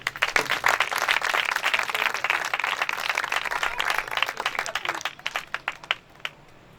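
Steady church audience applause with dense clapping that fades out toward the end, leaving a few scattered claps.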